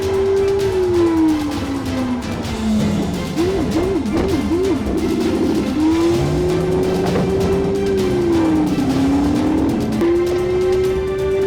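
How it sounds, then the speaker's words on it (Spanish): Police PIT maneuver spinning a Nissan Altima into a curb during a high-speed chase, engine whine swooping up and down with a burst of warbling tire squeal midway, loud and continuous. "El impacto hace girar al Altima contra un bordillo, terminando con su huida."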